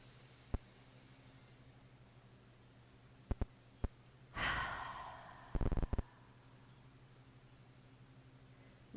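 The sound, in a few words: deep breathing during yoga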